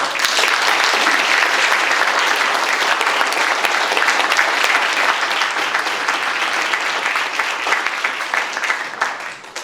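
An audience at a memorial lecture applauds to welcome speaker David Rubenstein, dense sustained clapping from a full hall that holds steady for several seconds and begins to thin at the very end.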